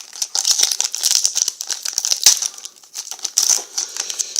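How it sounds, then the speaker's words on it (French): Foil Pokémon XY booster packs, including base set and Flashfire, torn open by hand without scissors, giving a steady run of crisp, crackling rips and crinkles close up with no talking. "Nous allons ouvrir ces boosters-ci."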